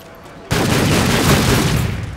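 A shotgun firing in the Call of Duty Infinite Warfare video game: a sudden loud blast, heavy and close, that rolls on as a dense roar for nearly two seconds.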